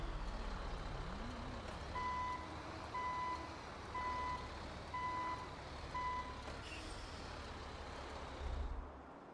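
A tow truck reverses in the GTA V video game, sounding five evenly spaced reversing beeps at about one per second over a steady engine and traffic rumble, fairly faint and without talk.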